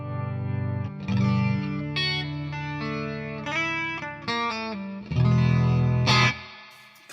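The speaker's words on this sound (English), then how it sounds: "Kind of a swooshing kind of chorus." An electric guitar plays chords and single notes through a Valeton Dapper Mini chorus effect pedal, a swirling, shimmering, swooshing tone wavering and sweeping, with no voices.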